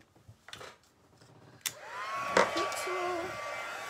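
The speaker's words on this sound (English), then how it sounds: "Heat tool." A heat embossing tool starts with a click and blows hot air in a steady, rising whoosh that continues to the end. A few light taps and rustles come before it, and a thin whine sits over the airflow.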